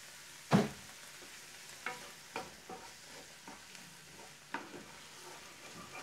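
Onions turning translucent in a pan with a squeeze of lime, stirred with a utensil: soft steady sizzle broken by one sharp clack near the start and several lighter scrapes and taps, close by with no talking.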